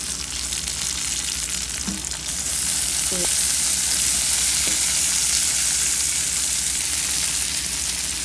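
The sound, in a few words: frying green chilies for tomato chutney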